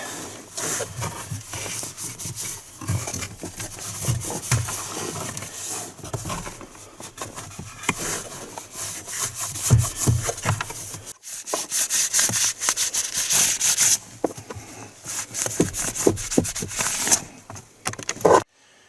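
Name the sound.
wiping out a compartment with cloth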